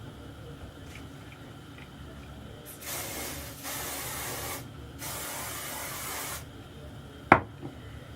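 Two short hissing bursts of hairspray close by, separated by a brief pause, followed by a sharp knock.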